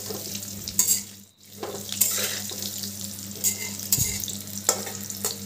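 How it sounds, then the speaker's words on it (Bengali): Potatoes seasoned with turmeric and salt sizzle in hot oil in a wok for aloo dum. The frying is loud and continuous, with a low steady hum underneath and occasional scrapes and clinks from stirring. "এবার এই আলুগুলোকে একটু নাড়াচাড়া করে ভেজে নিচ্ছি।"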